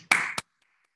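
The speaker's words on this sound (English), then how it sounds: "You're all on mute, so I'm clapping alone." A single person claps alone during an online webinar, giving two sharp hand claps close to the microphone and then silence.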